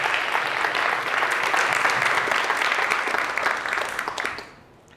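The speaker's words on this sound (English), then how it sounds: "I would like to invite every one of you to give a round of applause for this behind-the-scenes organizer." Workshop audience applauding steadily at a graph algorithms event, a dense sustained patter of many hands that fades out near the end.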